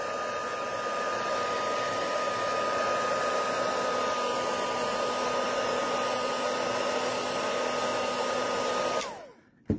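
A hair dryer blows steadily and close to dry paint on a craft piece, a constant whooshing hum with a faint whine that runs unbroken before switching off and winding down at the end.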